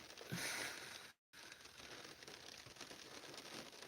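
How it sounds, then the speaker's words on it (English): Soft, steady rain patters continuously, faint and hissing, broken by a brief moment of silence early on. "Now it's really raining."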